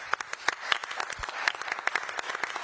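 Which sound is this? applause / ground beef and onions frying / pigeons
applause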